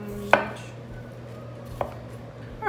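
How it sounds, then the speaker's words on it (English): A knife cuts through a cauliflower head into florets on a board in a home kitchen, giving two or three sharp, close chopping knocks spaced apart, with a low steady hum underneath. "Just gonna cut it into pieces like that."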